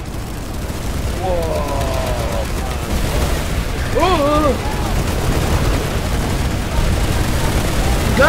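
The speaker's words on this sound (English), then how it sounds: "Gunfire everywhere in this room!" Sustained gunfire and explosions fill a room during a Planetside 2 firefight, a dense, loud barrage with booms and whooshing effects running throughout.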